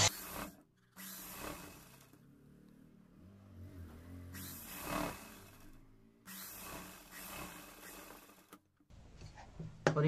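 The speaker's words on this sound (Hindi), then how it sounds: "तो इसमें हम पहले एक पैर की सिलाई लगा लेते हैं।" A sewing machine stitches a seam on a cowl neck top in bursts of quiet mechanical whirring, starting and stopping several times with short pauses between runs.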